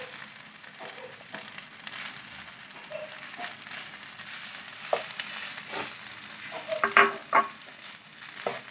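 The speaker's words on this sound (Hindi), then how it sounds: "हम इसमें डालते हैं 1 अदद मैश किया हुआ आलू और इसे अच्छी तरह से मिक्स कर लेते हैं" Chicken and mashed potato filling for Arabic sambusa is stirred and mixed in a hot pan, soft sizzling under scraping and squelching spoon strokes, close and quiet with a few sharper knocks.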